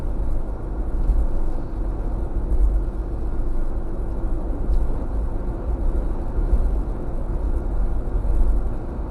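A Jeep driving along, picked up by a GoPro mounted on its windshield: a steady low engine and road rumble with wind noise, continuous and fairly loud inside the cabin.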